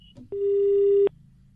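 After a prank call on a radio comedy show, a single steady telephone disconnect tone sounds for under a second. It is loud and clear against a quiet line.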